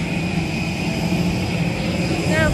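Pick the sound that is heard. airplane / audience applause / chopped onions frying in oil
airplane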